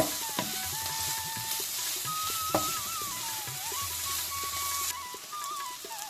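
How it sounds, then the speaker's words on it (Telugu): Ginger garlic paste and onions fry in a pan with a steady, close sizzle, while a spoon stirs and clinks against the pan now and then. "1 స్పూను అల్లం వెల్లుల్లి పేస్ట్ వేసుకుందాము. ఇది కూడా 2 నిమిషాలు మగ్గపెట్టుకోవాలండి."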